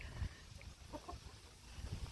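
Chickens cluck softly in a farm setting, a few faint short calls over low background rumble.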